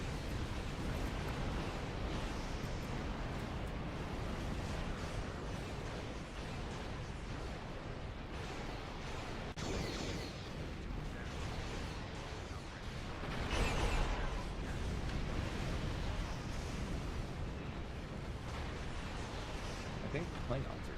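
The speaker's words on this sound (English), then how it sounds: "I'm gonna go lob a bunch of torpedoes at Zenith too." Torpedo fire and explosions rumble through a dense, continuous space battle in the video game Star Trek Online, forming a loud, busy wall of booms and bursts under game noise.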